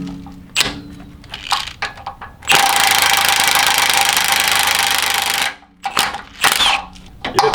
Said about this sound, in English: I'm probably just going to cut it off with a grinder